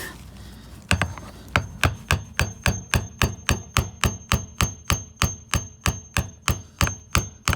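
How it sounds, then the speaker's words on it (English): Steady hammering while plugging a tire: sharp, evenly spaced metallic strikes, roughly three per second, close and loud, with no talk between blows. "Hammer time."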